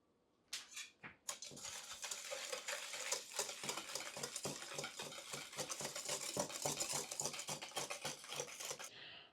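A utensil mixes clafoutis batter with a pinch of salt in a bowl, quick rhythmic scraping and clinking strokes repeating steadily and close for several seconds, with no voices.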